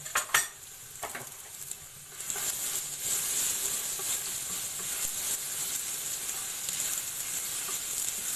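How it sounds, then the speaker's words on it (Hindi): Garlic fries in about three tablespoons of oil in a pan. A few clinks of a utensil come first, then a dense, steady sizzle builds and holds. "इसमें मैं डाल दूंगी लहसुन और इसको लाइट ब्राउन होने तक करूंगी फ्राई।"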